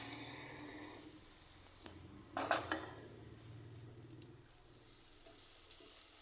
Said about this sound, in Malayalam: നമ്മൾ അതിനകത്തോട്ട് നമ്മുടെ ചീര ആഡ് ചെയ്യുവാണ്